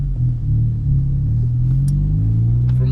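A Honda car engine with a Ktuner tune pulls hard on a highway, a loud, close rumble climbing steadily in pitch as it accelerates, with no talk.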